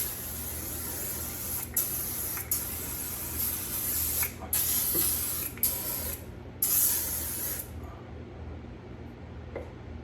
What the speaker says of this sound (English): Now I'm spraying this mold release on it.